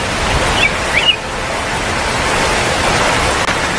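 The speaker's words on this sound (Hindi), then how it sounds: "आसमान में काले बादल, बिजली की गड़गड़ाहट और बारिश शुरू हो जाती है।" Steady rain pours down as a storm rolls in on a hot summer day, a broad continuous hiss close by with no distinct thunderclap standing out.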